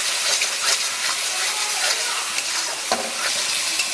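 Onion, ginger, cumin, dried chilli, tomato and turmeric fry loudly in oil, a dense close sizzle with stirring scrapes and small bursts spread throughout.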